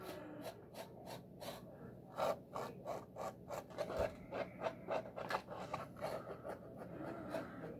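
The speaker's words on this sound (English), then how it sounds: "you hear a little bit of scratching" Philips Norelco electric shaver scratching across skin during a wet shave with Barbasol, a close, steady buzzing rasp broken by rhythmic strokes, with no voices.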